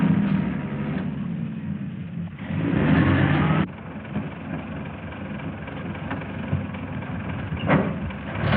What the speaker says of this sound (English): There's the car I saw.